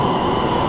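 Steady rumble and rolling hum of a train in China heard from inside the carriage, a constant dense drone with no break and no voices.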